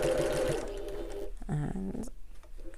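Sewing machine back stitching along a flat edge while sewing a wallet, a dense mechanical whir in the first second followed by a few short, separate stitching bursts.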